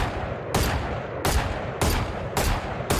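Four sharp single shots from the Guardian semi-automatic rifle in Valorant, fired at a steady, evenly spaced rhythm about every half second, loud and close with no talking.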